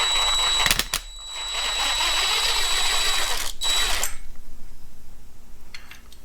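A bolt being backed off a Martinbuilt valve spring compressor on a Jeep, Dodge or Chrysler 3.7/4.7 engine, heard as a loud steady mechanical whir that runs for about four seconds, breaks off once briefly, then stops into quiet.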